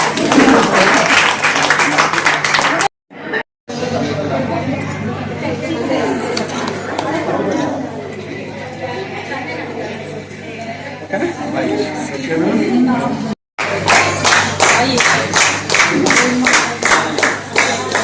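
Applause and cheering crowd at a cake-cutting eighth anniversary celebration, clapping under loud talk and chatter, with a brief dropout, then a burst of sharp rhythmic claps near the end.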